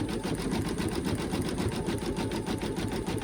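An in-the-hoop monkey bib stitches on a home embroidery machine, a close, steady rapid needle chatter running evenly throughout with no speech.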